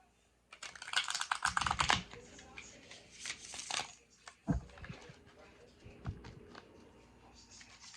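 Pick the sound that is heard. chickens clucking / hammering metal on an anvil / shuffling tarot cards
shuffling tarot cards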